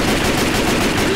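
Sustained, loud automatic gunfire from a machine gun in the zombie shooter Left 4 Dead 2, a dense continuous rattle filling the whole moment with no gaps.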